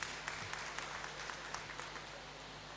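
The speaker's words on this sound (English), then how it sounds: "Another round of applause for the Provost." Audience applause fills a great hall at a university graduation congregation, a steady wash of many hands clapping throughout, moderately distant and even, with no talk over it.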